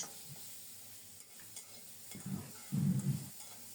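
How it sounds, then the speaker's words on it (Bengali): Chopped onion fries with browned coconut and chillies in a pan, a faint sizzle under scraping stirs, with a few louder spatula strokes near the end. "কিছুক্ষণ নেড়ে চেড়ে ভেজে নিয়েছি পেঁয়াজটাও"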